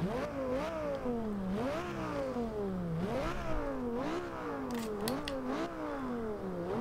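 A 2011 Lamborghini Gallardo LP570-4 Superleggera in the Forza Horizon 2 video game revs its engine repeatedly, each loud rise climbing and dropping back in a steady sawtooth pattern, with no talk over it.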